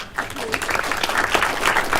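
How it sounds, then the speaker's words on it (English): Audience applause at a Penn Ridge School District school board meeting, a steady dense round of clapping filling the room throughout. "Can we give them a big round of applause?"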